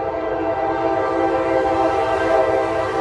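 A loud train horn blares continuously up close at an outdoor rally in Delaware, a sustained multi-tone blast over the rumble of a passing train.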